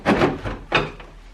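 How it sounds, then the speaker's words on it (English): A plastic fridge drawer is pulled out in two quick scraping, sliding pulls with a light knock, close and brief. "Take out each drawer."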